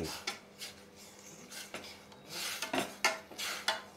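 Green chillies and cumin are stirred in a cooking pan, a spoon scraping and clinking against the metal in irregular strokes, close and fairly quiet, with several sharper rasping scrapes toward the end.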